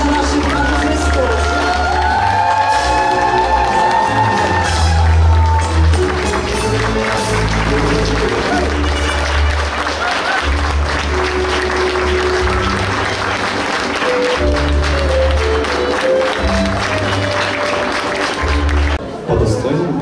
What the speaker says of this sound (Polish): gorące brawa dla naszych panów mistrzów